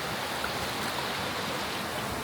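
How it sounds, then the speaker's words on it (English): Water pouring down at Solcoc Falls in the Philippines makes a steady, broadband rush, close and constant with no talking. "now we have made it to falls"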